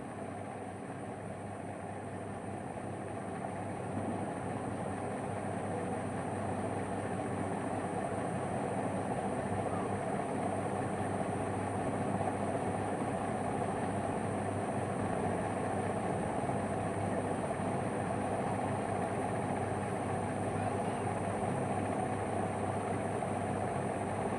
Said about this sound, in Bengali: ট্রেনের খুব আওয়াজ হচ্ছে দেখো ট্রেনের আওয়াজটা শোনা যাচ্ছে